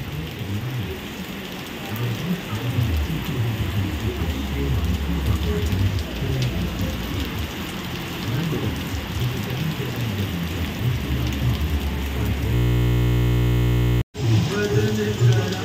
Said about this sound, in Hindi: अभी मैं GoPro को चला रहा हूँ पानी के अंदर बरसात में, और देखिए क्या बढ़िया क्वालिटी आ रही है, बहुत तेज़ बरसात है